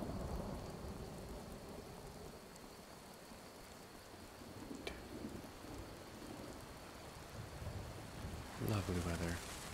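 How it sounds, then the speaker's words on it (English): Steady rain and rumbles of thunder from a storm in the video game Skyrim, a constant wash of falling rain with a louder crack near the end, played under quiet background sound. "Put on the helmet. Keep the rain off my head."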